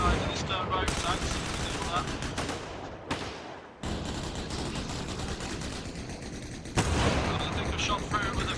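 Sustained heavy gunfire from a .50 caliber gun in the military shooter Arma Reforger, a loud dense stream of shots with a brief gap partway through, mixed with battlefield noise and faint voices.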